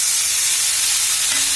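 Fried ridge gourd pieces go into a pan spiced with salt and Kashmiri chilli powder, giving a loud, steady sizzle with an even, close-up hiss throughout.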